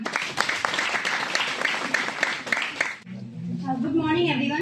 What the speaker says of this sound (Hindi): Mehnaz के लिए जोरदार ताली